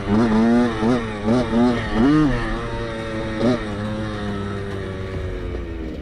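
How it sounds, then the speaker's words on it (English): A 125cc two-stroke motorcycle ridden gently around a track, its engine rising and falling in several short revving swells before settling into a steadier droning note, close and fairly loud. "nurse it around the track back to Dad to get his thoughts and opinions on how the bike was sounding"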